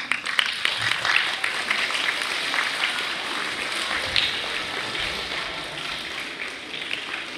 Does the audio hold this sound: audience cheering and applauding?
yes